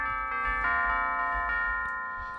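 Bells ring with sustained, shimmering tones, several strikes overlapping and slowly decaying, fairly clear and close.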